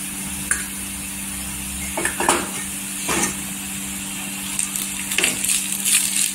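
Ginger garlic paste sautéing in hot oil with onions for a dried shrimp curry, a low sizzle with intermittent stirring scrapes and utensil clatter against the pot.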